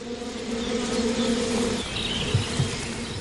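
Steady buzzing of honeybees fills the scene, a dense continuous drone with a stronger hum that fades partway through.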